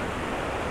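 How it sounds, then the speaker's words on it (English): Fast-running river water rushing steadily, a dense continuous roar with no breaks, heard alone without talking. "River is really running today."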